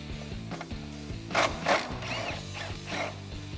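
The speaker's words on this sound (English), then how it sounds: "grab that 10mm socket. We're gonna remove this bolt right at the top of our wheel well." A 10mm socket ratchet working a bolt at the top of a Jeep Wrangler JK wheel well, close mechanical clicking in short bursts with a few louder ratcheting strokes and metallic rattles, no speech.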